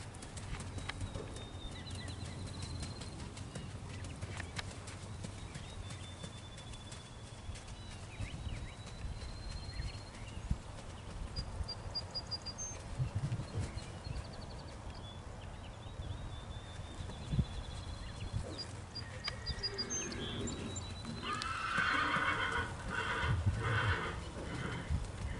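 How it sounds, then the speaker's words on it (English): Liver chestnut Tennessee Walking Horse trail horse on the move outdoors, soft repeated hoof clops with an occasional whinny, pigeons cooing and birds chirping faintly around it. "a really fun horse that you can put many miles out on the trail with"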